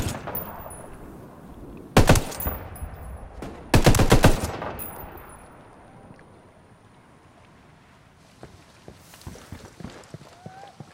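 Gunfire in the Ghost Recon Wildlands video game at a boat lab, with two loud bursts of shots a couple of seconds apart over wind and ambient noise, followed by quieter scattered clatter.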